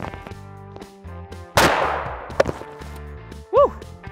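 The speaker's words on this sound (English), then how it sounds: "Let's put a round down there, see how it goes." Suppressed rifle firing one Winchester 168 grain Match King round at an office chair target outdoors: a single sharp muffled crack followed by a decaying rumble, with a whooping voice moments later.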